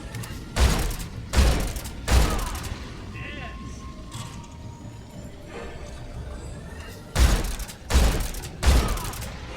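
Gunfire rings out during a boss fight in Metal Gear Solid Delta: two clusters of three heavy shots, loud and close and evenly spaced, separated by a quieter stretch of background game sounds.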